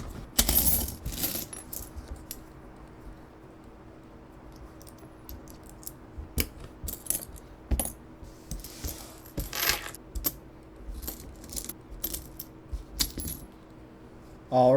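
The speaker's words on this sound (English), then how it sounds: "I'm going to go ahead and open up this coin safe and I'll loop you in on what I find." Old coins clink and rattle as a coin safe is opened, with scattered metallic clicks and jingles in irregular bursts, some louder drops near the start and end over a quiet background.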